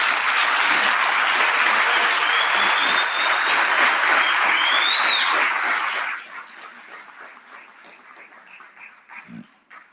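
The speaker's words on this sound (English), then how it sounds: "Let's give the good doctor a good round of applause again." Loud applause from an audience at a national student representative council induction, a dense steady roar of clapping that stops abruptly after about six seconds, leaving scattered faint claps and murmurs.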